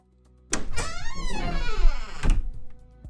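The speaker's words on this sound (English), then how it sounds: "shoved the door open and we swung in, flashlights leading the way" A door shoved open: a sharp thump followed by a long creaking, groaning swing, ending in a second knock, loud and close with no voices.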